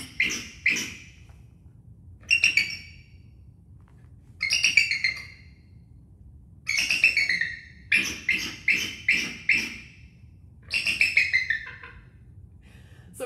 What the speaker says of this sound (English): we had to get at least one really good full bald eagle vocalization in there.